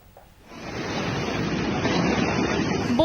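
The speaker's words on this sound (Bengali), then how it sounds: "এদিকে টাইফুনের প্রভাবে জাপানে হচ্ছে প্রবল ঝড়" Strong typhoon wind and rain lashing Japan, a dense roaring wash of noise that swells in after a quiet start and holds loud to the end.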